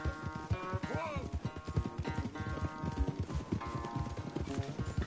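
Horses gallop during a race in Red Dead Redemption 2, rapid rhythmic hoofbeats with a brief whinny, loud and close, with a voice talking over them.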